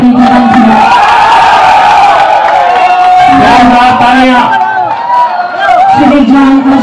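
Loud crowd cheering and whooping greets the chief minister's arrival on stage at a public hospital inauguration event, a dense, continuous roar of many voices with shouted calls rising over it.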